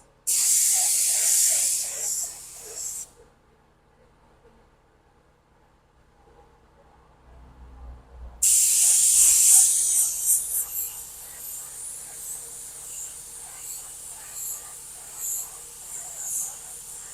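A spray gun applies epoxy primer to a car body under repair in two loud hissing bursts, a long spray and then a second after a quiet pause with low rumbling, the hiss tapering into quieter spraying.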